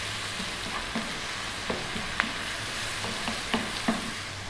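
Tomatoes cook down with cumin in a hot pan, a soft steady sizzle punctuated by light scrapes and taps of a utensil stirring every half second or so, close and without talk.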